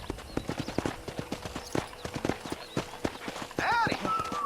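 Horse hooves clip-clop in a quick, steady rhythm on a ranch in the Red Dead Redemption video game, close and continuous, with a voice briefly heard near the end.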